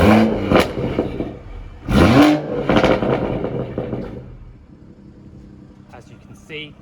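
BMW M140i, a 2019 Stage 2 car with a Scorpion exhaust in sport mode, revs sharply twice with crackling pops between blips, then settles to a quieter idle. Someone talks over the end.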